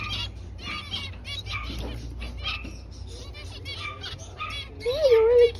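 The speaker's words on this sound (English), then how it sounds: "Beautiful birdies." Pet birds chirp and twitter in quick, bright bursts close by, mixed with a person talking to them, and a louder squawk near the end.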